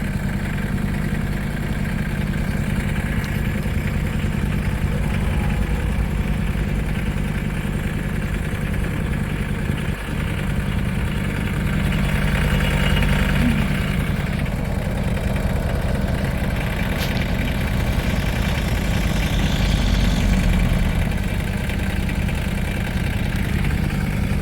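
A Mahindra tractor engine idles steadily with a low, continuous rumble, loud and close, unchanging for the whole stretch with no talk.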